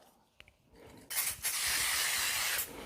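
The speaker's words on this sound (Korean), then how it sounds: "베이킹 트레이 갖다 놓고요" Cooking oil sprayed onto a baking tray while making almond amaretti cookies, heard as a loud, steady hiss of about one and a half seconds with a brief break, following a few faint clicks and no talk.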